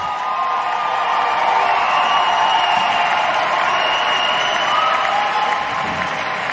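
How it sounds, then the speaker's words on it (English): A large arena crowd applauds ice dance champions at the 2020 European Figure Skating Championships, with sustained heavy clapping and a few scattered cheers and whoops. "please give a big applause from Russia, the ice dancers, Victoria Sinitsina and Nikita Katsalapov."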